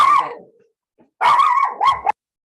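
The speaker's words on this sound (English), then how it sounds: "Yes, I knew that my dog would bark at that." A dog barks indoors at a gardener outside, loud and close: one bark, a short pause with a faint yip, then a longer run of two or three rough barks that trail off into a whimper.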